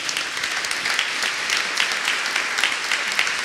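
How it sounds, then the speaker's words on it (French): Loud, sustained audience applause for the speakers at the close of a conference talk on blockchain, many hands clapping in a dense, even roar with no talk over it. "Merci à nos intervenants que je vais vous demander d'applaudir bien fort."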